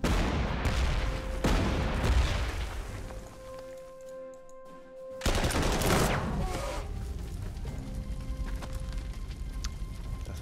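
Artillery and gunfire from a 1940 Panzer Corps 2 battle: loud booming blasts and scattered volleys, a brief lull midway, then renewed heavy firing with rumbling low impacts throughout.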